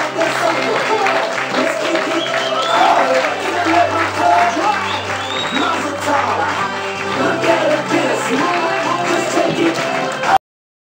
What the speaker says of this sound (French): je vous invite à applaudir les joueurs qui vont venir sur scène